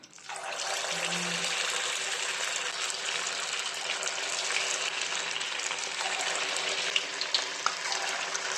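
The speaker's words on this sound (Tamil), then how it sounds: "இப்போ நம்ம குட்டி போண்டா போட்டுக்கலாம்" Small rice and potato bondas dropped into hot oil in a kadai, giving a loud, steady, close frying hiss that rushes like running water and continues unbroken, without talk.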